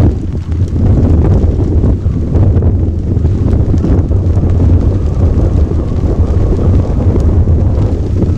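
A violent storm with strong wind and rain sweeps over the Kedung Ombo reservoir, a loud, dense roar that buffets the microphone without a break from start to finish.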